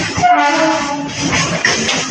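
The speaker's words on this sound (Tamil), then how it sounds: "இது ஃபஸ்ட்டு ட்ரெயின் சிபிடி பேலாப்பூரில் இருந்து நேருலுக்காக" Local commuter train running from CBD Belapur toward Nerul, heard from on board as a loud, steady rumble and rattle of the carriage with a brief higher tone, continuous throughout the short stretch.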